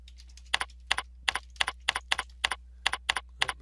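Computer keyboard keys tapped in quick, evenly spaced pairs of crisp clicks, close and clear over a low electrical hum, with no voices.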